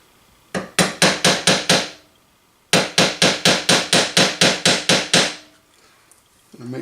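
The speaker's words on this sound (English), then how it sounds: "So now we're going to put this back into place, and we're going to give it some taps." A hammer taps the front sight of a Pietta Spiller and Burr revolver into place in a vise, two quick bursts of sharp, close metallic taps, about five and then eleven in an even rhythm, with a short pause between them.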